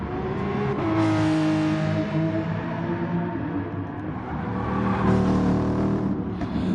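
A Porsche 911 race car in a sim racing game at Interlagos, its engine droning loud and close with pitch rising and falling through gear changes over a continuous racing roar.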